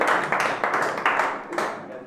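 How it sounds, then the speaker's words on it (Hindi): A class claps hands together in a classroom, a loose ragged round of clapping with several stronger bursts fading slightly toward the end. "ताली मारो उसके लिए"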